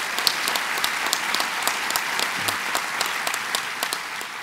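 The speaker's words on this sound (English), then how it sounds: "please give another round of applause to Majority Leader Dean Skelos" Assembled legislators and guests give a round of applause for the state Majority Leader at the governor's budget address, scattered individual claps standing out from a steady wash of clapping in a large chamber.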